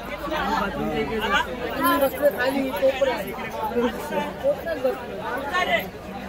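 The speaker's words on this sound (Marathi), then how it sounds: "भरपूर गर्दी आहे ट्रेनला।" Packed commuter train carriage near Thane and Panvel, full of steady overlapping conversation from many passengers, a continuous hubbub with occasional louder nearby voices.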